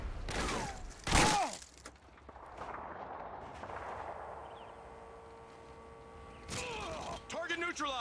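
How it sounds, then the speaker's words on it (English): A stun grenade going off in Modern Warfare 2, a sharp loud burst with a bright crackling flash near the start, followed by a quieter ringing drone and shouted voices. "Tossing stun grenade!"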